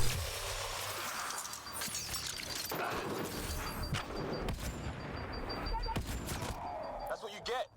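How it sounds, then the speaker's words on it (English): Rapid bursts of gunfire and crashing impacts during a firefight with pirates in Mass Effect Andromeda, dense and fairly loud, with sharp cracks and a low rumble throughout. "Who's shooting me?"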